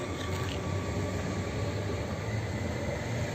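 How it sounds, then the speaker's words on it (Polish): A Koleje Mazowieckie Flirt R160 electric train pulls away from Warszawa Gdańska station, a steady, loud, continuous rumble and hiss filling the air. "rusza pociąg kolei mazowieckich, Flirt R160"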